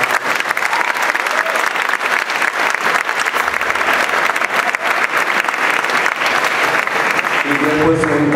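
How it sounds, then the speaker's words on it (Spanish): Audience applause at a school song contest at a German school in Tenerife, steady dense clapping filling the whole stretch at close range, with a few voices and a musical tone rising near the end. "Mick, un gran aplauso."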